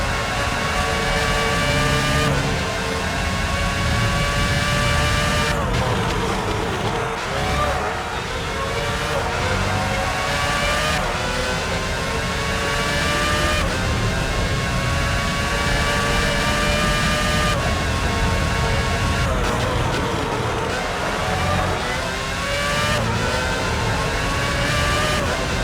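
Formula One race cars in the PS2 game F1 06 give off a steady high engine whine with gear shifts and rising revs. Alonso exits the pit lane back onto the circuit, and the engine note stays loud and constant throughout.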